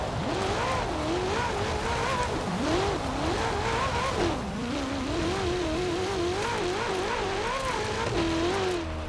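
A car drifts in Forza Horizon 4, its engine note rising and falling in wavering sweeps while the tires squeal through long slides, loud and continuous with no voices.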